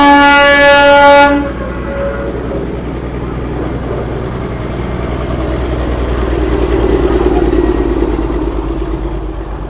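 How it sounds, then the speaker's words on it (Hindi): A single-coach Jungle Tea Safari train arrives at a station in the lower Himalayan jungle, opening with a loud, sustained horn blast that gives way to a deep, steady rumble of the idling locomotive. "फाइनली अपनी ट्रेन जो है वो आ चुकी है"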